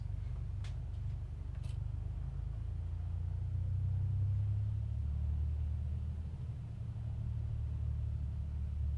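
Light aircraft engine at Shoreham idling while taxiing, a steady low rumble heard from inside the cockpit, swelling slightly midway, with a couple of faint clicks early on and no voices.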